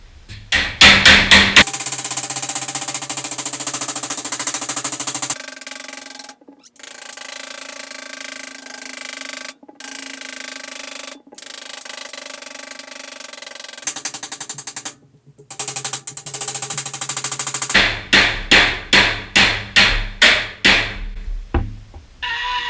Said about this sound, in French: On fait plusieurs petits coups au lieu de donner des gros coups